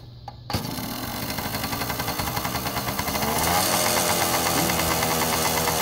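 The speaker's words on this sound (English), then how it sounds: "let the engine warm up for a second" A 1980 Yamaha MX80 motorcycle engine starts up with a sharp burst, then settles into a steady, close, rapid putter at idle that grows slightly louder and fuller toward the end, with no talking.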